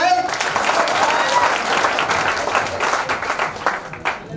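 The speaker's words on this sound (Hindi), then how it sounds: "जोरदार ताली हो जाए" Loud crowd applause at a motivational gathering honoring a locomotive pilot, dense and close, with voices mixed in beneath the clapping.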